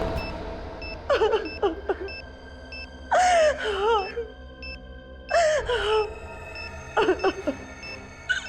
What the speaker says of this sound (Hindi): रोने की आवाज?